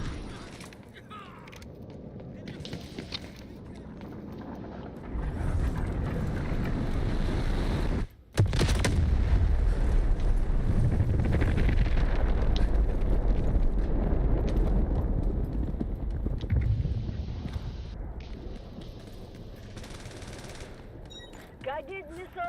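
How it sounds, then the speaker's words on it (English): Guided missiles launch and explode in the video game Delta Force: loud, sustained rumbling blasts and crackling fire fill the scene, with a brief dip just after eight seconds before the barrage surges back. "Guided missiles launched."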